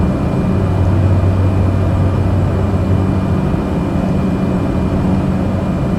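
In a flight simulator, the engine of a Cessna Caravan turboprop drones steadily during a climb, a continuous loud low hum with no talking over it.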